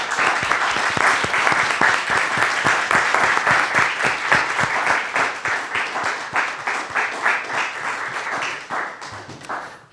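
A gallery audience at a Black History Month 2021 peace-and-progress dialogue applauds a panel, with dense, steady clapping from many hands that thins and fades toward the end.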